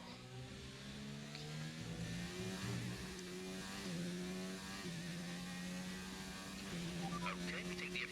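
Engine of a race car in the F1 2019 video game at the Russian Grand Prix, a steady rising and shifting mechanical drone with stepped pitch changes, droning continuously at moderate level with faint background hum.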